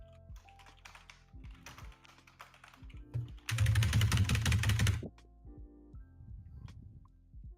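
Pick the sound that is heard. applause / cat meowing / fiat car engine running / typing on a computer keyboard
typing on a computer keyboard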